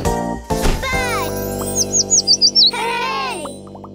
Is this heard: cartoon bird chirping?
yes